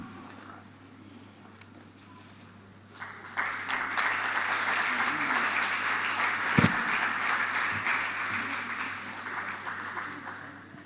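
A hall audience at a public presentation on gender-based violence breaks into applause; quiet room tone gives way to loud, sustained clapping and cheering that holds, with a single sharp thump midway.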